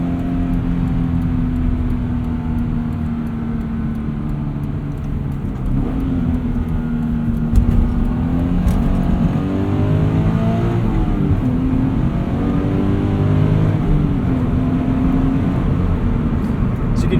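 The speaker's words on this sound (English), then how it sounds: "It's all engine exhaust." Subaru BRZ engine with a catted UEL header and stock exhaust revs steadily, its note rising and falling in smooth sweeps over a constant droning cabin rumble, close and continuous throughout.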